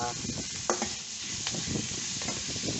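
Pork stir-fries in oil in a pan, giving a soft, continuous sizzle broken by a few scraping stirs of the spatula, quiet and close.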